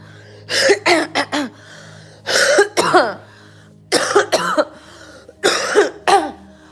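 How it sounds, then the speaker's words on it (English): A series of short, harsh coughing bursts in clusters of two or three, close and fairly loud, with brief quiet pauses between groups. "if there's like a little klakalaka, a blinga, it's like a little mucus. You just cough it up."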